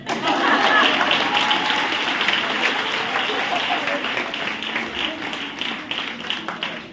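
A church congregation at a Sunday revival service claps lightly, a softer, thinning patter of hands that starts fuller and tapers off, with murmured voices underneath.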